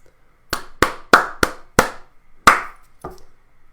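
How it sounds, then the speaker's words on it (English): Seven sharp hand claps in an uneven rhythm tapping out the syllables of two food words during a music lesson, close and crisp with silence between. "I'm going to do 2 foods and I'm going to clap it"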